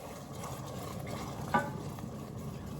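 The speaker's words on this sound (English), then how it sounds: "I'm gonna mix the pan" Pasta sauce being stirred in a pan, a faint, steady scraping and sizzling texture with one brief clink of a utensil against the pan midway, heard close and without talk.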